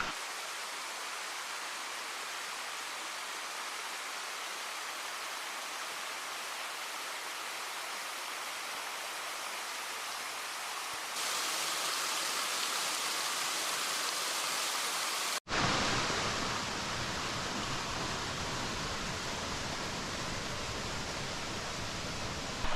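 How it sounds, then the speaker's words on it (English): A waterfall on the Appalachian Trail near Mt Moosilauke roars as a steady, dense wash of rushing water that grows louder partway through, with no voices. "There's that wonderful waterfall."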